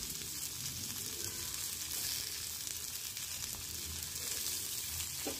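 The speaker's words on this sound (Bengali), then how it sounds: "এরপরে আলু, উচ্ছে আর ডাঁটা সব কিছুকে একসঙ্গে বেশ খানিকক্ষণ ধরে ভাজবো" Bitter gourd, diced potatoes and vegetable stems frying together in a pan, giving a steady, dense sizzle that holds at even loudness throughout, close by and with no voices over it.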